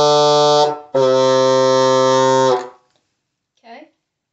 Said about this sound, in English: So today I will be showing you how to play hot cross buns on a bassoon.